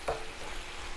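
Apples frying in a pan for fried apples, a soft steady sizzle with a brief stirring scrape near the start, close and fairly quiet.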